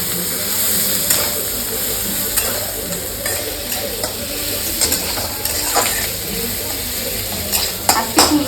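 Onions fry with ginger-garlic paste in a pan for a Bengali-style river fish dish. A loud, close, continuous sizzle is broken by frequent stirring scrapes and clinks of a spatula against the pan.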